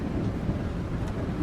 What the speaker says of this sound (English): Oh, come on, rain, go away.